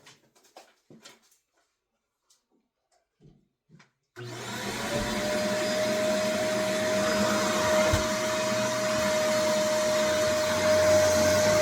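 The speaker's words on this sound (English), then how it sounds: "Listen to the sound if you can hear stuff being sucked up." A corded vacuum cleaner starts after a few quiet moments of handling noise, then runs continuously with a loud, steady whine and a sustained high tone, with no voices over it.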